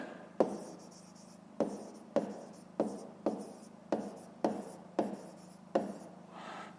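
Handwriting numbers on paper gives a series of about ten quiet, close scratching strokes, each starting with a soft tap and fading, in an irregular rhythm in a quiet room.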